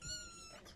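A kitten gives one short, faint, high-pitched meow close by.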